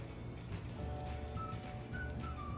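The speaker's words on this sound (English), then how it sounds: "It is a cold and rainy day here in Georgia." Steady rain falls on a cold, rainy day in Georgia, a continuous soft patter on surfaces with a faint whistling tone drifting in near the end.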